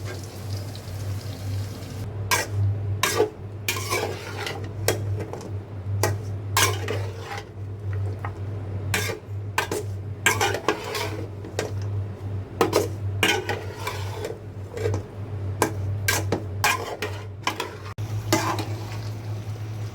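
Vegetables with green chilies being stirred in a sizzling pan, a metal utensil scraping and clinking against the pan in irregular strokes over a steady low hum, close and fairly loud.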